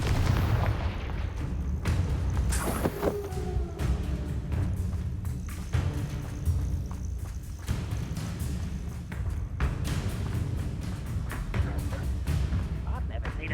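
In the video game Hogwarts Legacy, the Confringo blasting curse goes off as a series of booming explosive impacts over a dense, constant wash of battle noise and music.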